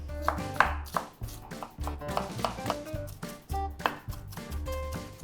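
A knife chops an onion steadily on a cutting board, quick rhythmic thuds close up, with faint music playing softly underneath.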